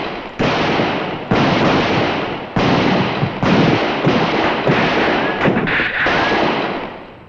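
Gunfire in a western TV shootout, a string of loud, sharp bursts in quick succession, each a broad blast with a ringing tail, close and dominant, with no voices.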